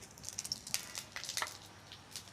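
Bay leaves, dried chillies and panch phoron dropped into hot oil for shukto give a faint, close sizzle with quick crackling pops and spits scattered irregularly throughout, with no talk.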